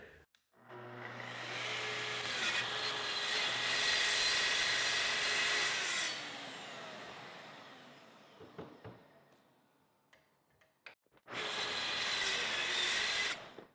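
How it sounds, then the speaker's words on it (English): A belt sander smooths a glued wooden workbench top, running loud and steady for about five seconds, winding down into scattered knocks and handling, then starting up again near the end. "we're going to get this thing flipped over, probably use the belt sander, get it smoothed out a little bit"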